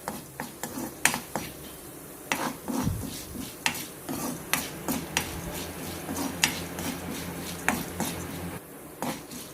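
Chana dal roasts dry in a pan while a spoon stirs it, giving repeated scraping rasps and light clinks in an uneven rhythm, close and moderately loud throughout.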